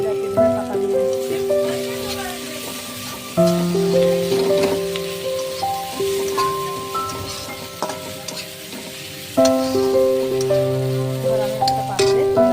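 Pomfret fish oil fries in a pan with a steady sizzle and crackle, layered under background music with occasional faint voices.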